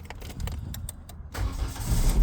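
A hot Peugeot 206 CC convertible fitted with a Landi Renzo LPG gas system cranks and catches, its engine firing up halfway through and settling into a louder, steady rumble close by.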